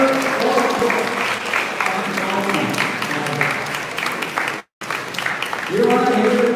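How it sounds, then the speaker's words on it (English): Audience applause for a singer who has come from Germany, performing at a National Parents' Day event; steady, dense clapping fills the room, breaks off for a moment near the end, then resumes as talk begins. "Please give a round of applause to"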